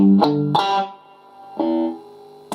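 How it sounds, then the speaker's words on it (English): A palm-muted electric guitar plays a riff in a few short, choked, chunky stabs with brief decays between them, close and moderately loud. "Whereas the palm muting sounds like this."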